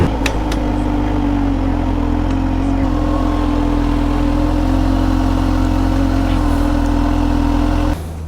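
A supercharged Kawasaki ZH2 motorcycle engine runs steadily at a close, loud idle with a deep, even hum and a slight rev near the start, cutting off abruptly at the end.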